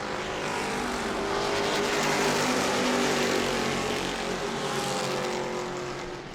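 Super stock race cars roar around New Smyrna Speedway in a pack, engines loud and sustained, swelling as they sweep past and fading slightly at the end.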